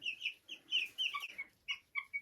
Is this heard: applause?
no